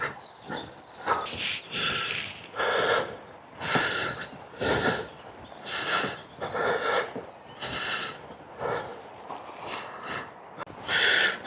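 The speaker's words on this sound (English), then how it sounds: "Can you hear that birds?" Repeated bird calls in short bursts fill the air at Bohernabreena Reservoir, fairly close and lively, with brief pauses between them and no talking.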